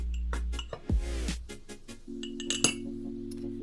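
Dry flour, sugar and cocoa powder are stirred in a mug, giving light scraping and several sharp clinks of a spoon against ceramic, close and fairly quiet, with nobody speaking.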